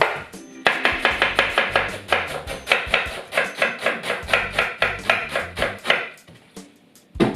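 A knife chops rapidly through Chinese cabbage on a board, a steady run of close, crisp cuts for several seconds before pausing near the end.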